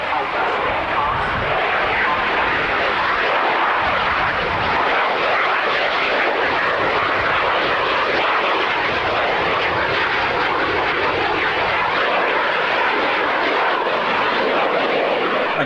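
An aircraft engine roars loudly and steadily throughout at the Coningsby airshow in 1993, a dense broadband drone with no break.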